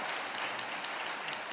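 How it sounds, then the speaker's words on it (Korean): Members of a church congregation at a Wednesday evening service clap for the choir and worship team, a soft, brief, steady patter of many hands heard from a distance. "격려의 박수 하겠습니다."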